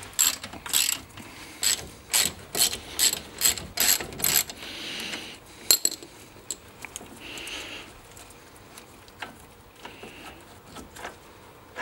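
Ratchet wrench with a 10mm Allen key socket undoing the brake caliper bolts on a Porsche 911 (996) or Boxster (986): a run of close, rhythmic ratcheting bursts, then sparser, quieter clicks.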